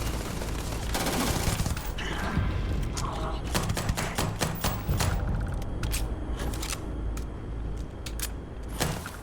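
Rapid bursts of Maelstrom gunfire in the space shooter Starfield, loud sharp shots in quick clusters over a dense, rumbling game soundscape.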